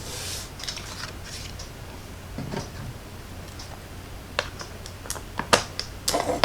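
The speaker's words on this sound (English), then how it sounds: "Let's cut another little piece of my yellow." Scissors snip a small piece of yellow paper during card making, a few sharp, quiet clicks and cuts scattered over a low room hum, growing busier toward the end with no talking.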